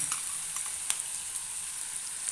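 Crushed dried red chilies frying in a pan for Kerala papadam thoran give a steady, fairly soft sizzle with scattered light crackles and pops and no talking.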